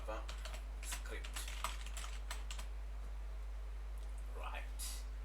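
Typing on a computer keyboard, a string of light quick key clicks in short uneven bursts, close but soft over a steady low hum.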